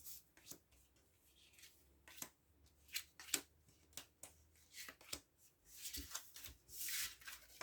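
Tarot cards shuffled by hand for a nine-card spread, heard as quiet, repeated soft rustling and flicking bursts at an irregular pace, ending in a longer, fuller rustle.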